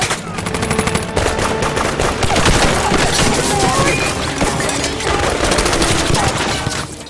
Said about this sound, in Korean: 수용소 근처에 숨어있던 미군들은 일본군들을 향해 무차별적으로 사격하죠